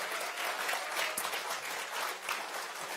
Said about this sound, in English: can I have please one more round of applause for Ruben Warnshuis?